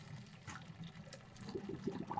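Cooked macaroni noodles being drained from a pot, a steady low splashing and gushing of water with trickling and gurgling, fairly quiet and continuous.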